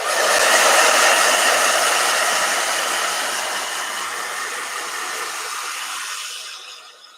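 A blow dryer runs loud and close with a steady rushing hiss for several seconds, then tapers off and cuts out at the end.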